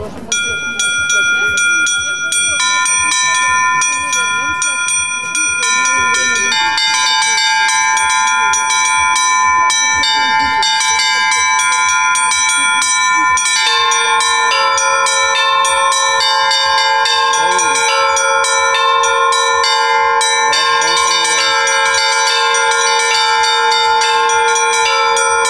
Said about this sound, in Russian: Вы сейчас услышите вальс колоколов.